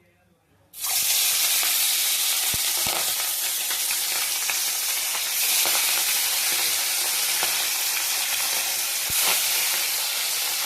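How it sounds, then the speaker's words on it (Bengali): Pabda fish drop into hot mustard oil with a sudden loud burst of sizzling that holds steady and dense, with a few sharp pops and crackles over the continuous hiss. "সর্ষের তেল দিয়েছি। এবার এই মাছগুলোকে একটা একটা করে ভেজে নেব।"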